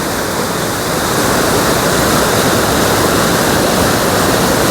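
Loud, steady roar of a river rushing at high pressure near Kedarnath, a dense unbroken wash of churning water with no pauses.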